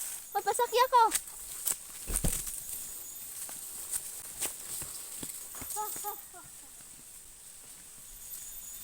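A carabao, or water buffalo, walks in the Philippine countryside, its hoofbeats making scattered clip-clop steps at close range while people talk at the start and again partway through.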